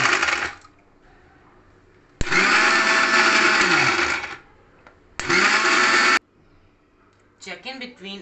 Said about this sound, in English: put it in the mixer so I can mix properly. So now grind it